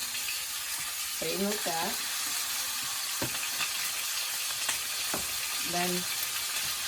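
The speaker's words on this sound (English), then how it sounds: "I'm going to put the steak down, the ones that I seasoned, away from me." Seasoned steak sears in hot oil in a pan, giving a loud, steady sizzle close up throughout, while a person talks in short bursts over it.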